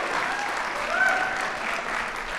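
Applause from an audience at a school's annual State of the School event, a steady dense wash of clapping held at an even level throughout, with no voices over it.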